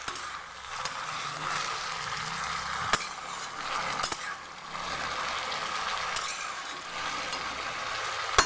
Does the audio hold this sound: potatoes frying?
yes